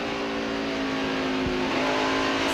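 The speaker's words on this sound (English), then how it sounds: "Hear the engine rev." A NASCAR race car engine revs loud and close during the 2001 Sharpie 500, a steady high-pitched roar with a quick dip and rise in pitch partway through, with no voices over it.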